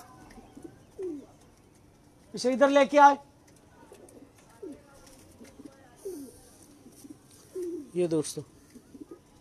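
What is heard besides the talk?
Home breed pigeons cooing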